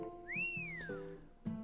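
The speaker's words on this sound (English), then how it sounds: "The guitar player sends out a disdainful whistle." A disdainful whistle from a guitar player in an Arknights voice-acted story: one clear rising-then-falling whistle over a soft steady tonal bed, with some quiet thumps and plucked tones around it.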